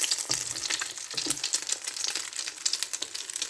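Ghee is added to cooked khichuri in a pan and sizzles in a dense, crackling burst. The sound is close and fairly loud, with no talk.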